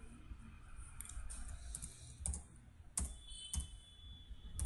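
Keyboard typing of C code for a linked-list menu program, close and fairly quiet, with a steady patter of small key clicks and a few sharper louder strikes spaced out across the stretch.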